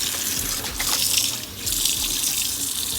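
Tap water runs steadily into a sink while a salt-brined brisket is rinsed off under the stream, a continuous close splashing gush with a brief dip in flow midway and no talking.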